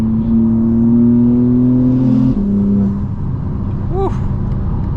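A 2024 BMW M4 Competition xDrive (G82) engine hums steadily from inside the cabin, its low droning tones shifting as it changes pitch, with a brief rising whine near the end.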